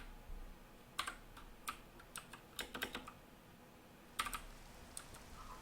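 Keys tapped on a computer keyboard in irregular bursts of sharp clicks, some closely clustered, quiet and close against a low steady background hiss with no talk.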